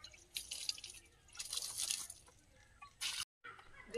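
Water trickles and splashes onto garden soil in a bed where spinach is sprouting, a close, uneven run of pouring and dripping with a brief dropout near the end.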